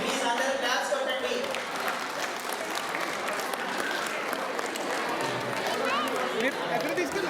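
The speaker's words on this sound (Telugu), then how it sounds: "ప్లీజ్ అందరూ క్లాప్స్ కొట్టండి" Audience clapping at a prize distribution for UNO and carrom games at an Ugadi celebration, dense sustained applause from a crowd, with some chatter mixed in.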